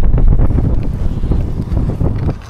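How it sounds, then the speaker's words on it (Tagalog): Strong wind buffets the microphone in heavy low rumbling gusts, loud and continuous with no voices. "Oo nga, malakas ang hangin saka malamig."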